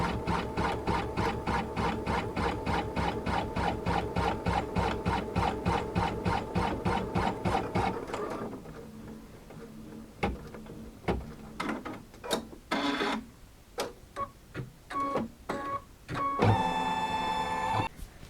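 A sewing machine runs a steady, rapid rhythmic basting stitch along a Christmas tree garland for about eight seconds, then stops, followed by scattered mechanical clicks, clunks and a brief final whir.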